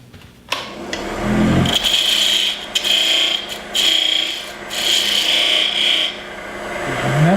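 Turning tool cutting bog oak on a wood lathe with a poorly ground edge, giving a close, continuous scraping and rasping sound that comes in several sustained bursts separated by short pauses.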